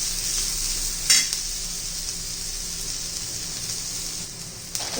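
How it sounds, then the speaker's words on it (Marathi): Chopped onion frying in a hot pan for a bread omelette, giving a steady, close sizzle throughout with a couple of sharp stirring scrapes near the start and end. "हे बघा कांदा ट्रान्सपरंट झालेला आहे थोडा अजून कलर बदलून देऊया शिजला गेला पाहिजे कांदा"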